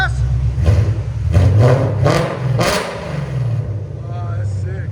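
A 2021 Ford Mustang GT with a 5.0L V8 and its exhaust valves open revs several times in sharp, loud bursts over a steady idle rumble, with voices nearby.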